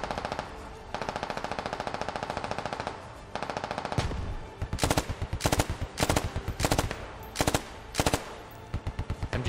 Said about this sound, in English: You guys hear that MG?